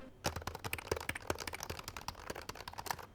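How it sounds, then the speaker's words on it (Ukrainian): Soft, quick clicking of scissor-switch keys on a Canyon HSET-W5 keyboard being pressed in an irregular typing rhythm, close and fairly quiet. "Звучання клавіш доволі тихе"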